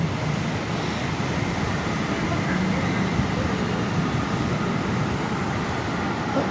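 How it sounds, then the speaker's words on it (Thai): Steady, loud rumble of a train rolling into Saphan Mai station in Thailand, a continuous low mechanical roar with rail noise that holds evenly throughout, no voices. "รถไฟมา"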